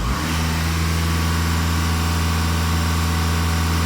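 Volkswagen Passat B8 engine revved in a workshop, a loud, close, sustained mid-pitched roar held at raised revs from start to finish.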